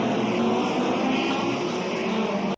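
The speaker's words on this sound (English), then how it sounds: "They sound really good. They sound like 6 cylinders." Formula One race cars of 1962 roar past at the Monaco Grand Prix, a loud, dense, continuous engine drone that holds steady and then cuts off abruptly at the end.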